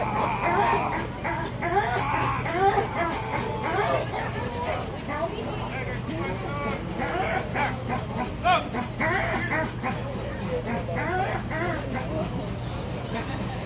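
A two-year-old police K9 dog whimpers, yips and barks excitedly during bite-work training outdoors, a constant agitated mix of whines and sharp barks over a steady low hum, with people talking throughout.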